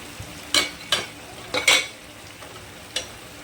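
A vegetable curry sautés in a pan, a quiet sizzle beneath several sharp spatula scrapes and stirs spaced unevenly, close up with no voices.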